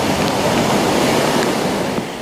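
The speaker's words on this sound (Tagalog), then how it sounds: "Malakas naman ang hampas sa mga alon sa Manila Bay" Strong waves pound Manila Bay during a typhoon, a loud, continuous roar of surf mixed with wind, with no voices.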